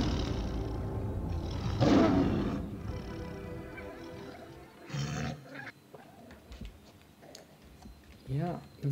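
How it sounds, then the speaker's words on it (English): Tiger in a game lets out a deep, rumbling roar near the start, followed by growls and chuffing sounds, moderately loud, with people talking over parts of it. "Yeah, that tiger is really real"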